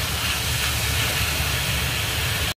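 Loud, steady sizzling hiss of pork frying in a pan as its water cooks off, constant and close, cutting off abruptly at the end.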